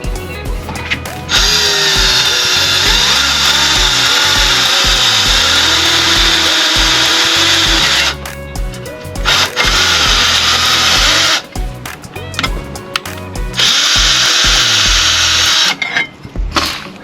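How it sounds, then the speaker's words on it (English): A power drill drilling screw holes, loud and close, whining in long sustained runs with brief pauses and rattling between bursts. "Let's drill these holes now."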